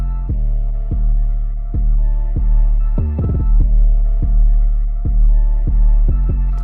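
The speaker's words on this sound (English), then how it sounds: "So we just got the 808." An 808 bass in music production, a deep booming tone struck in a steady repeated pattern of about a dozen hits, loud and alone, with a quick cluster of notes near the middle.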